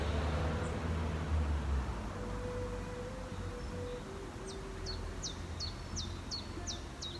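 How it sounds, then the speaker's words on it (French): Faint outdoor ambience with a soft low hum, then a bird chirps repeatedly in a quick regular series of short, high notes in the distance. "les oiseaux."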